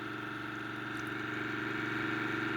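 A 3D printed pulse motor spins a large disc rotor at about 1400 RPM, giving a steady, close-up mechanical whir with a fast pulsing hum that builds slightly louder over the clip.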